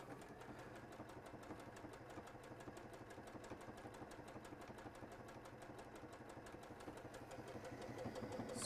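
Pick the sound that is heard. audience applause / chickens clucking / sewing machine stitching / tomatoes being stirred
sewing machine stitching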